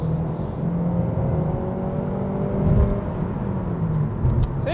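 Interior engine hum and tire roar of a 2022 Kia K5 with a 6-speed automatic driving at night in eco mode, a low steady drone with a brief swell, close and without talk.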